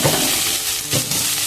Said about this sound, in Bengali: তারপরে আমি দিয়ে দেবো এই পেঁয়াজ কোচানো আর লঙ্কা কোচানো